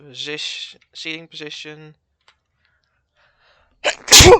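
Someone talks briefly, then after a quiet pause comes one loud, close sneeze with a sharp intake and burst.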